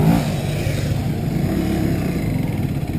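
A Kawasaki W175 SE, a 2020 single-cylinder motorcycle, runs with a steady mid-pitched engine drone as the clutch is eased out, close and constant for a few seconds with no voices.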